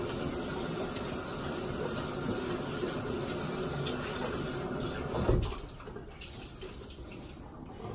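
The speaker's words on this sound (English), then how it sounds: "I wash my rag out." A washcloth is rinsed under a running bathroom tap, water gushing steadily and close, then a brief splash as the flow is disturbed and the sound drops to a softer trickle.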